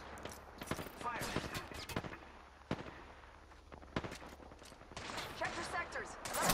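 Apex Legends gunfire, sharp repeated shots and bursts mixed with in-game effects, heard under ongoing game voice lines and player talk.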